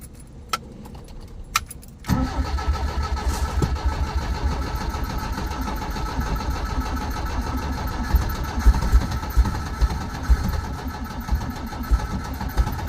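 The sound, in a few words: 1972 Toyota Corolla engine idling, carburetor idle adjustment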